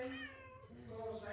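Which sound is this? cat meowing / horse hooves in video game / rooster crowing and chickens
cat meowing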